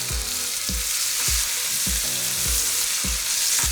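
Finely chopped onions sizzling in a hot pan for a chicken pasanda, a steady loud hiss with soft rhythmic scraping from stirring about every half second, close and with no voices.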